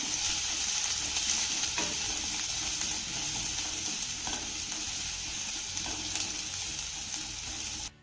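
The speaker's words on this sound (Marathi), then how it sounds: "आता हा लसूण आपल्याला चांगला परतून घ्यायचा आहे" Grated garlic and mustard seeds frying in hot oil in a pan, a loud continuous bright sizzle with soft stirring scrapes running throughout, heard close and alone.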